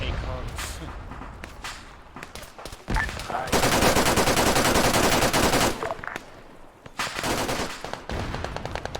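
Gunfire in Arma 3, with sharp single shots giving way to long sustained bursts of automatic fire, then more scattered volleys, while a person talks over parts of it.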